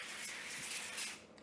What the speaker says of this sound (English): I like to spray them with a little bit of olive oil cooking spray before I put them in the oven.